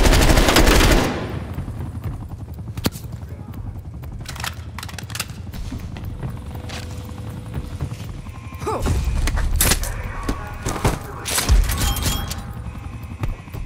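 Video game gunfire: a loud opening blast, then scattered single shots and short bursts in an otherwise quieter stretch, with heavier rapid fire near the end.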